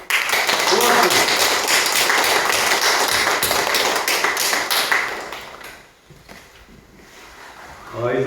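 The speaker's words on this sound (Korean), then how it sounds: "우리 함께 박수로 격려합시다" A church congregation at a mission report gathering applauds in encouragement, lively clapping for about five seconds that fades into a quieter pause before the clapping picks up again.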